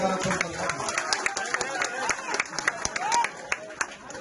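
Villagers at a political rally in a rural Indian village clap in scattered, uneven bursts, individual claps standing out against a murmur of crowd noise and some talking nearby.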